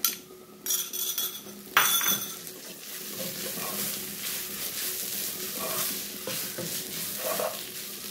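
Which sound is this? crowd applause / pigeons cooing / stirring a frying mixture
stirring a frying mixture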